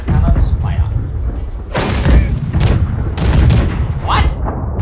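Ship cannons firing in the naval video game Blackwake, a series of loud booming broadside blasts in bursts over a dense, rumbling battle din.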